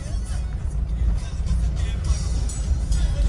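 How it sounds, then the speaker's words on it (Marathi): A Mitsubishi Pajero engine rumbles in a low, steady drone close by, with faint higher rattles over the continuous motor noise. "पजेरो बघा. पजेरो कसे नादच ना."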